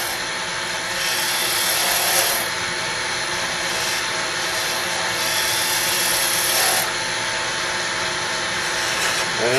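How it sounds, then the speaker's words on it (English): A round nose scraper shaves lightly along a turned pen blank on a lathe, a steady close rasping hiss that swells in two longer passes, with no voices over it. "I'm using a round nose scraper to do a cleanup on this end."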